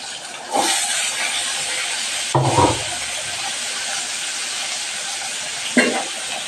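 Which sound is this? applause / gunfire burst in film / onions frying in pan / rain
onions frying in pan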